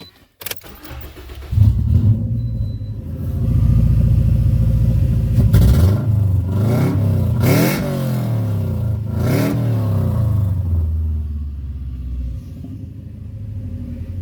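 A car with a newly fitted 3-inch exhaust pipe cranks and starts, settling into a deep rumbling idle, then revs up sharply three or four times before easing back to a steady idle, loud and close.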